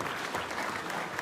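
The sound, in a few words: audience applause at a Senate hearing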